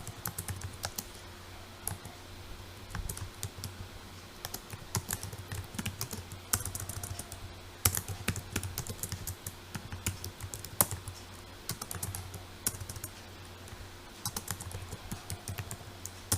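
Rapid, irregular typing on a computer keyboard, with sharp key clicks in uneven bursts and brief pauses, steady and close throughout with no talk over it.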